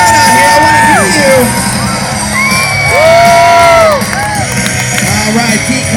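Large crowd at a BMX stunt show at the Texas State Fair cheering, whooping and yelling, with children's shouts rising and falling, loud and close over an open-air outdoor background.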